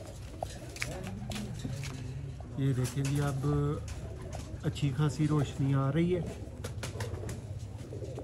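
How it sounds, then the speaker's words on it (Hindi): Red-eyed pigeons coo softly in short repeated phrases, close by, mixed with someone talking. "ये नेक्स्ट परिंदा आ गया दोस्तों, लाल आंख के ब्रांडेड कबूतर"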